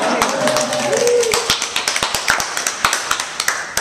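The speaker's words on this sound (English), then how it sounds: "We have to give you a little bit of applause." Small group clapping at a woodblock printing demo, a steady run of sharp individual claps that starts under overlapping talk and continues on its own, fairly close and moderately loud.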